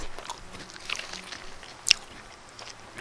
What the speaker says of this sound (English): I'm eating pretzels, and you can hear them